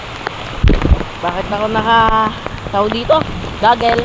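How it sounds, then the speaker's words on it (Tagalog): Rain falls steadily beside a swimming pool, a soft hiss of drops on the surface under a person talking nearby. "Yan guys, umuulan."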